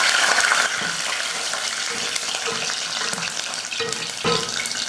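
Garlic cloves added to hot oil with crackling mustard seeds and urad dal for tomato thokku sizzle and spit loudly and steadily, with a sharp burst of frying at the start and occasional stirring clinks, no voices.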